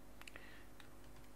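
Typing on a computer keyboard while writing HTML form code, a few faint, close key clicks spaced unevenly over a quiet background hum.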